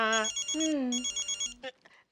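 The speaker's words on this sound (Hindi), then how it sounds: "अब्दुल का फोन" A telephone rings in a comedic Indian TV sitcom household, its tone repeating in short bursts under a voice; the ring is close and clear with speech overlapping.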